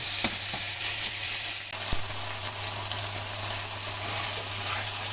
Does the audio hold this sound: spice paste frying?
yes